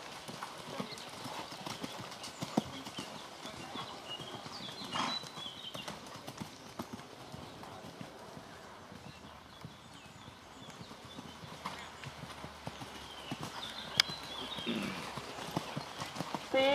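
Horses cantering in a riding arena, rhythmic hoofbeats thudding softly at a moderate distance under faint ambient noise, with a voice speaking intermittently.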